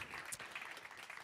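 Faint applause from a conference audience at an investor meetup, a steady soft wash of clapping heard from a distance for about a second.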